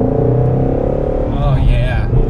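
A Ford Mustang GT350's engine rumbles and revs from inside the car, a loud, deep, steady drone with a rising pitch near the end, while people talk over it.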